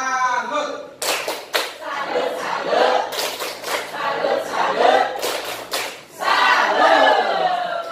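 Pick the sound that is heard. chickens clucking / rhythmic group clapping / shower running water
rhythmic group clapping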